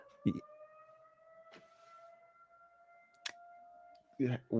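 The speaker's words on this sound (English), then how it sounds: "I'm hearing the sirens go off in Chicago." Air raid sirens wail steadily over Chicago, a faint, distant sustained tone heard indoors, broken by short bursts of nearby talk.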